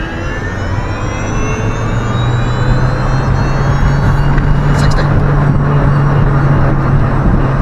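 A homebuilt electric roadster accelerates hard from 0 to 60 going downhill, a loud steady whine and road roar that holds close and strong throughout, with rising tonal motor sweeps.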